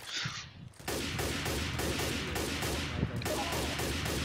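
Rapid automatic gunfire from a video game, a loud dense fusillade of evenly spaced shots sustained for several seconds after a brief quieter moment.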